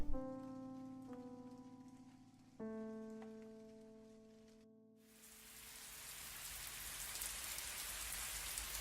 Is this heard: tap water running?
no